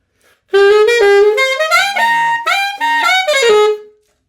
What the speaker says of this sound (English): I'm playing it on alto. And if we were to use the tenor fingering, it would sound like this.